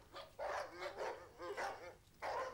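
Former Stasi sniffer dogs in a kennel barking, four fairly faint barks in an uneven rhythm with short gaps between them.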